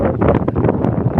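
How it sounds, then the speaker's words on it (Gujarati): Strong wind buffets the microphone in an open farm field of groundnut and pigeon pea, a loud continuous rumbling roar with gusty fluctuations throughout. "પવન જોરદાર છે."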